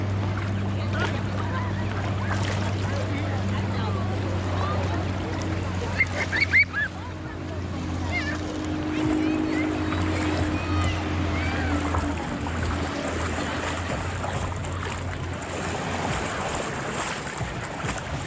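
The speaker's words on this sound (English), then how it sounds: "Let's get the boat going." A motorboat engine drones steadily on the water off Honeymoon Island, a low continuous hum throughout, with splashing and voices in the background.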